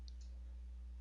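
A single soft computer mouse click near the start, faint and isolated against a low steady hum, with no voices.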